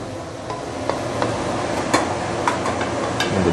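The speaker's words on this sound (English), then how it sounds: "I'm going to dish it out." Stir-fried sweet potato leaves being dished out of a wok, a soft constant hiss with scattered light clinks and scrapes of a spatula against metal.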